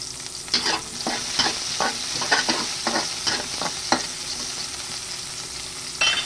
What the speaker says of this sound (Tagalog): Sasatay muna natin yung bawang, sibuyas.